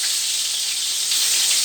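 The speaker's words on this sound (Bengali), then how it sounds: "ভাজা বসালাম, বেগুনটা ভাজা হোক" Eggplant slices fry in hot oil with a loud, steady, close-up sizzle and hiss that holds without a break for the whole short stretch.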